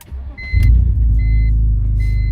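A widebody BMW E46, missing its O2 sensors, driving: a steady, close, deep engine rumble with a few faint electronic tones over it.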